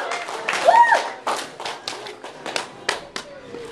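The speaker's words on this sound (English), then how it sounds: "Give both these gentlemen a big round of applause." A short burst of clapping for two fighters at a combat-sport weigh-in, sharp scattered claps from a small crowd lasting a few seconds, with some voices mixed in.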